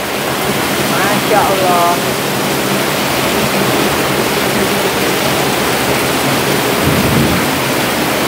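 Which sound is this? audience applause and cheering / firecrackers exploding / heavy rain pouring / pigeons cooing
heavy rain pouring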